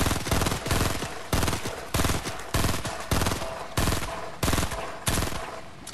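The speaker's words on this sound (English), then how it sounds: "season 1 burst assault rifles." Fortnite Chapter 2 Season 1 burst assault rifle firing repeated three-round bursts, about ten loud close bursts in steady rhythm with brief gaps between, no talking.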